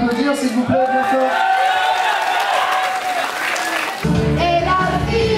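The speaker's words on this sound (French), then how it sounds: "on peut l'applaudir s'il vous plaît, bien fort" Wedding guests applaud loudly at a reception, dense continuous clapping throughout, with music and a voice on a microphone over it and the clapping swelling again near the end.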